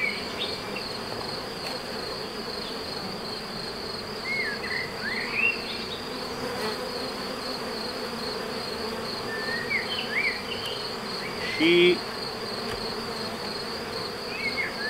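Honey bees buzz steadily around beehives in a rural apiary, a dense continuous hum with a few nearby bees passing close, and occasional faint bird chirps on top.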